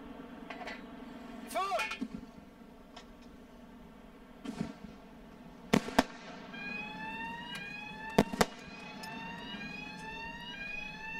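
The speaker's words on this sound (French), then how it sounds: "L'alarme sonore que vous venez d'entendre vient du radar GA10 ayant détecté les tirs de mortier ennemis." A GA10 radar alarm warning of enemy mortar fire sounds in a military setting with a series of sweeping electronic tones, repeated rising chirps and sharp bursts, moderately loud, with voices present.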